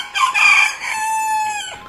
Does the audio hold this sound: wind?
no